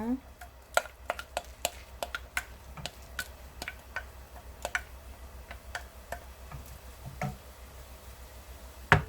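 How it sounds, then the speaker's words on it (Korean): A light sizzle runs under rapid, irregular clicks and taps as vegetables stir-fry in a preheated, oiled pan, with a utensil striking the pan again and again. "예열한 팬에 야채를 다 넣고 볶아줍니다."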